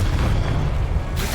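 A Confringo explosive spell blast in the Hogwarts Legacy video game, a loud, dense rumbling boom that fills the whole moment with a brief brighter crackle near the end.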